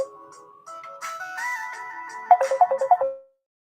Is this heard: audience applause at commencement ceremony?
no